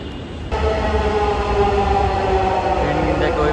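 Dhaka metro rail train pulling into a platform, a steady loud rumble and hum that starts abruptly and holds without a break, with a faint high whine above it.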